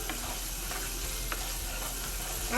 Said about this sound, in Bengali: আমি নাড়াচাড়া দিলাম